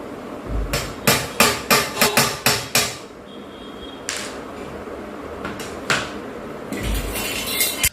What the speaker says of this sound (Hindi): ड्रिल करने से पहले यहां पर एक पंच मार्क बनाऊंगा और उसके बाद मेटल की बिट से ड्रिल करूंगा